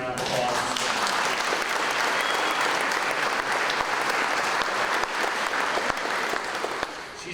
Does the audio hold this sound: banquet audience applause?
yes